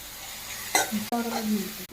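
Onion frying with ginger garlic paste in a pan for egg rice, giving a soft, close sizzle and stirring scrapes over about two seconds, with a few brief clatters.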